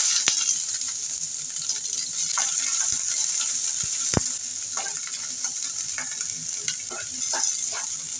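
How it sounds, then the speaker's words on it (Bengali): Onion frying with browned garlic in a pan, a steady bright sizzle running throughout with occasional stirring scrapes and clicks of a utensil against the pan. "এবার আমি পেঁয়াজটা দিয়ে দিচ্ছি"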